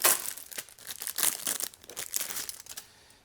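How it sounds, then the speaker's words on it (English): Crinkly plastic packaging around a PC case back plate is torn and crumpled open close by, a rapid run of sharp crackles and rips over about three seconds. "So there's the back plate, and just tear that open."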